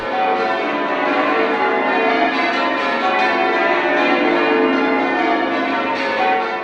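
Church bells rung by a team of bell ringers sound loud and continuous, overlapping peals blending into a dense ringing wash throughout, with no voices.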